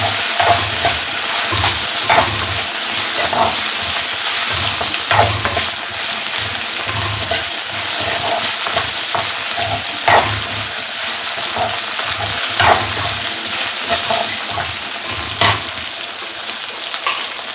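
Okra sautés in oil for a Tamil buttermilk curry. A loud, continuous sizzle runs throughout, broken by repeated rhythmic scrapes of a spatula stirring in the pan.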